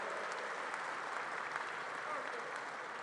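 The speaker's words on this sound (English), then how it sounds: "So let's give her a round of applause." Crowd at a campaign rally in Pittsburgh, Pennsylvania applauds steadily, a thick, even wash of many hands heard from a distance and fairly soft throughout.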